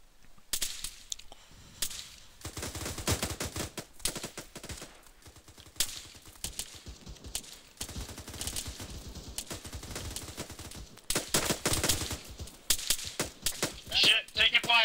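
Rapid bursts of video game gunfire, single shots and automatic volleys, crackle steadily for the whole stretch in a military shooter match, some close and loud, others farther off, with brief pauses between exchanges.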